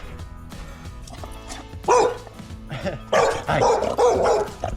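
Several dogs bark over a backyard fence in loud, overlapping bursts with a few yips, growing busier toward the end; a man briefly calls out once amid the barking.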